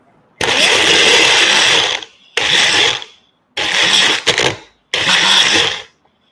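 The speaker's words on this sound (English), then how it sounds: "You just blend it. Okay, blend it into the paste." A kitchen blender grinds nut paste for a Ferox nut dessert in four loud, close bursts separated by brief pauses, the motor whirring harshly in each burst, with no voices over it.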